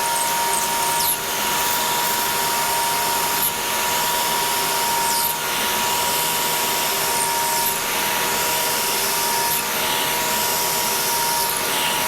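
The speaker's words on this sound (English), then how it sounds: "Just peck drilling here, try to control the chips." Peck drilling a hole in a workshop, the drill running loud and steady throughout with gritty, broadband grinding and faint periodic surges as the bit is pulled back and fed in again, with no voices.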